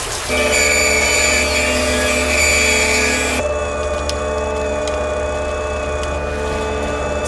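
A loud, constant mechanical drone of heavy drilling machinery boring into a vault, steady whine and hum that shifts in tone partway through without stopping.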